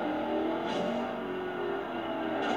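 A Corvette's engine roars steadily in the racing game Forza Horizon 2 on Xbox 360, a loud, continuous drone whose pitch rises and shifts as it revs, close and alone with no talking.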